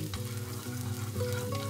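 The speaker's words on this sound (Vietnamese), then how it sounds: "mình sẽ cho khoảng 2 thìa canh dầu ăn vào chảo và sẽ phi thơm nốt cái số tỏi băm còn lại" Minced garlic frying in about two tablespoons of cooking oil in a pan, a steady close sizzle with faint stirring scrapes running throughout.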